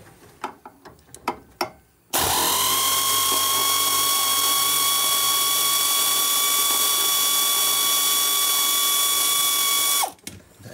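Rear suspension bolts on an MGB GT Sebring being undone with a power tool, one loud, steady whirring run of about eight seconds with a sustained tone, starting and stopping abruptly after some faint clicks.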